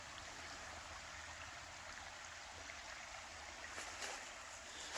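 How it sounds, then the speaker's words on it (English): A small meandering brook flows through woodland, a faint, steady trickling murmur heard from a short distance with no other sounds over it. "It's got this meandering little brook."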